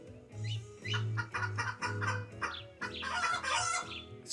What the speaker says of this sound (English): I tell you, these chickens are no joke.